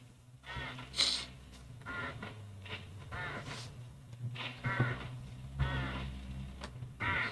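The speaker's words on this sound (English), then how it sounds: "hooded crows all along this road" Hooded crows caw repeatedly in the video game Hitchhiker, a series of harsh, scattered calls spread across several seconds at moderate loudness, with no talking.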